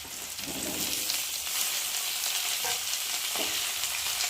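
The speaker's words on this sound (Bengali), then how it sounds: "আলুটা একটু ভালো করে নেড়ে দেবো।" Small cut potatoes fry with onions in a pan while being stirred, a steady hiss of oil with scraping spoon strokes breaking through at intervals, close and moderately quiet.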